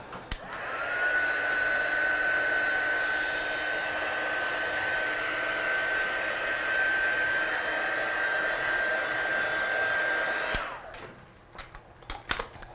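Hair dryer blowing on watercolour paint over a stamped card, a steady close whoosh with a thin whine lasting about ten seconds before it clicks off, leaving quiet handling noises.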